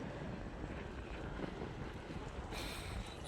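Wind blows and roars steadily outdoors from a high rooftop viewpoint, a dense continuous rush buffeting the microphone with no letup.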